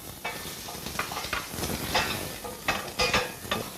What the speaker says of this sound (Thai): เสร็จแล้วก็กระเทียมนะครับผัดให้พอหอมนิดหน่อย